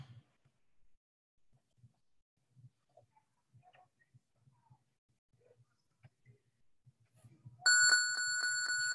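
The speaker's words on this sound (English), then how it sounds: "Ten-second bell." A workout interval timer bell sounds near the end as a loud sustained electronic ring with steady harmonic tones, following several seconds of quiet low thumps and faint shuffling from an exercise session.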